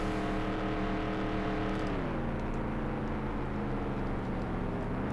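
Race car engine droning in the NASCAR 98 video game at Atlanta, a loud steady whine whose pitch dips partway through as the car shifts and then climbs again, alone without talk.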